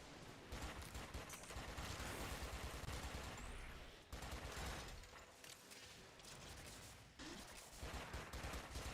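Rapid gunfire from the Warframe video game, dense overlapping bursts of shots sustained almost throughout, loud and continuous with brief lulls, no voices.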